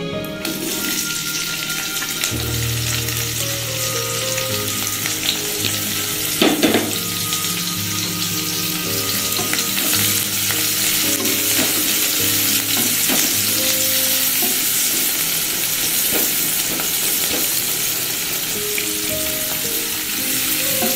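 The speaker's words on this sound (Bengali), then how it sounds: "তেলটা গরম হয়ে এসেছে। এরপর দিয়ে দিচ্ছি আমি কুচানো পেঁয়াজ।" Chopped onions dropped into hot oil for a vegetable pasta, a loud close sizzle that keeps going while a spatula stirs and scrapes the pan in irregular strokes, with faint clinks and no talking.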